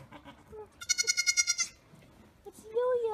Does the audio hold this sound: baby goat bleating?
yes